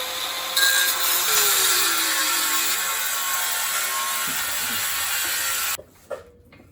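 A power saw cuts through the metal floor brace over the rear axle of a Chevelle body, a steady loud grinding whine that runs for several seconds, then stops abruptly, followed by a few faint clanks.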